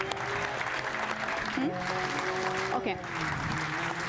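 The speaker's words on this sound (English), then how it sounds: "I think you really deserve a warm applause as well" Audience at a Nordic drug reform conference applauding steadily throughout, the clapping running underneath a person speaking over it.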